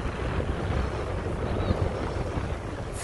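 Strong wind buffets the microphone at a lakeside campsite above a marina at Elephant Butte as a storm moves in, a loud, continuous broadband roar with gusty surges throughout and no talk.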